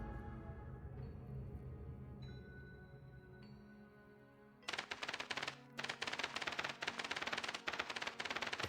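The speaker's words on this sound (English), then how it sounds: "It has typing sounds" Rapid typewriter-style key clacks from the puzzle game Tales from Candleforth, dense quick ticking bursts beginning midway and repeating in short runs over soft sustained background music.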